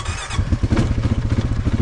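A quad ATV engine catching and running after stalling in heavy rain and mud, with a loud, rapid, pulsing motor chug that holds steady throughout.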